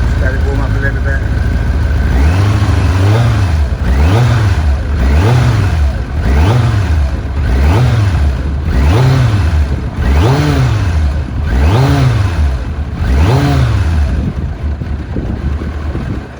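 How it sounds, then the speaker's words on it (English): A 1990 Kawasaki ZZR 1100 C1 motorcycle, still slightly cold, runs close by and is revved repeatedly, rising and falling in about seven smooth, regular blips over the idle. "Engine just purrs away, and a really silky smooth pickup."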